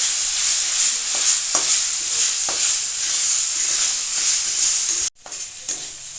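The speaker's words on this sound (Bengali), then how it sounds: "দিয়ে আমি নেড়ে চেড়ে এটা পুর তৈরি করে নেব।" Parwal stuffing being stirred in a pan after salt and sugar go in, a steady soft frying sizzle with scattered scraping strokes of the spoon, close by, briefly cut off near the end before resuming.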